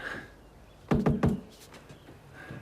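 Three firm knocks in quick succession on a wooden front door of an isolated house out in the woods, loud and close, with quiet surroundings before and after.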